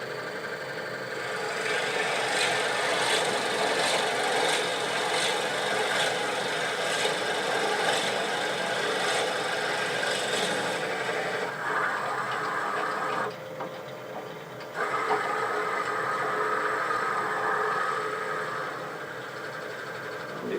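Wooden pendant turning on a lathe fitted with a multi-axis chuck at a slow 500 to 600 RPM, giving a steady broadband scraping rasp with a rhythmic pulse from the spinning off-center piece, loud and close, briefly easing off midway.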